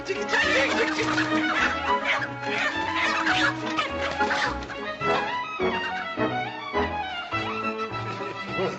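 Chickens cluck and squawk in a busy, continuous jumble, loud and close, with the clucks overlapping throughout.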